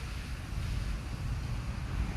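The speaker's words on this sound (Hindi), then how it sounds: "ये देखें, ये बारिश हो रही है" Heavy rain pours steadily through a thunderstorm in Islamabad at night, a dense, continuous rushing wash with a deep low rumble underneath and no clear breaks.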